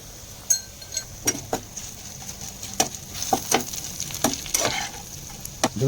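Bitter gourd fries with chili powder in a pan, a constant low sizzle punctuated by frequent sharp metallic clinks and scrapes of a spoon stirring at an uneven rhythm.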